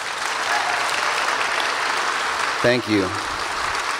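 A festival audience applauds after a live musical performance. The clapping is steady and moderately loud for most of the clip, and a short spoken thank-you cuts in near the end.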